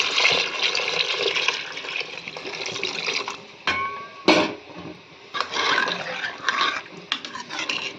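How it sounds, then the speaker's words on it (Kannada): Water pours and splashes steadily into a pot of beans, with a couple of brief clunks partway through and a busy running-water hiss throughout. "ಅದಕ್ಕೆ ಸ್ವಲ್ಪ ನೀರು ಹಾಕೋಣ ಎಷ್ಟು ಬೇಕು ಅಷ್ಟು"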